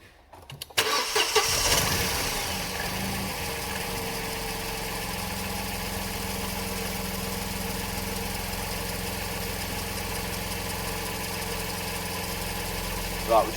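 A car engine cranks briefly and catches, revving up loudly before settling into a steady, even idle that drones on close by for the rest of the time.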